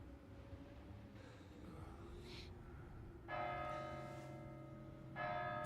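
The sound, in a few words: church bell tolling in Kingdom Come: Deliverance II video game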